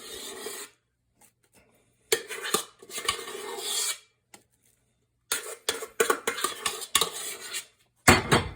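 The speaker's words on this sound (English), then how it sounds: "you're just going to fold that together" Whipped cream folded into tiramisu mixture in a bowl gives intermittent scraping and clinking bursts of utensil against the bowl, separated by quiet pauses, fairly close with no talking.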